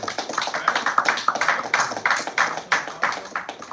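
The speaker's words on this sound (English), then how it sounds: "we want to make sure you get a round of applause to all of you" A small group claps at the close of a podcast recording, giving a light round of uneven, sparse hand claps that sound fairly close and soft and carry on for a few seconds.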